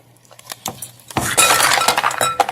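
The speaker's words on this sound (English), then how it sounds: "dump the ice cubes in here" Ice cubes dumped into a glass, a loud clattering rush of clinks and knocks that starts abruptly and rattles on for over a second, with a few faint clicks before it.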